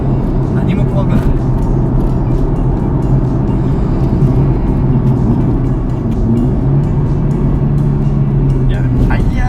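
A supercharged Toyota 86 ZN6 with a carbon roof, tuned to about 300 horsepower, drives along with a steady engine hum and road noise from inside the cabin, while people talk over it almost continuously.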